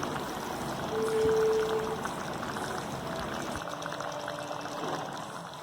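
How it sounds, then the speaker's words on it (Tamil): Meal maker gravy simmers and bubbles in a pot, a soft continuous liquid burble that is faint and close, with a brief tonal hum near the start. "ஒரு 2 மினிட்ஸ் இந்த கிரேவி வந்து நல்லா கொதிக்கட்டும்."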